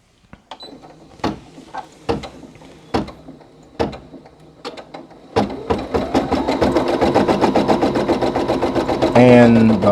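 A Brother PE800 embroidery machine starting up on a satin-stitch patch: a few sharp separate mechanical clunks, then a steady rapid rhythmic stitching drone that continues to the end, close and loud, with a voice speaking briefly over it.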